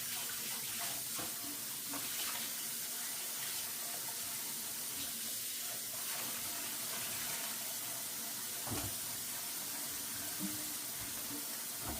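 Hot dishwater runs from a kitchen tap into a sink, a steady hissing splash that goes on for about twelve seconds at a fairly constant level, with no one speaking.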